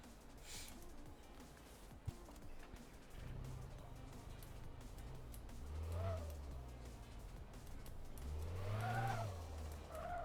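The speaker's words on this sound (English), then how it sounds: "I heard the turbo then." A car engine in Mechanic Simulator 2026 revs up twice with rising pitch and audible turbo over a low hum and faint ambient noise, the second rev louder.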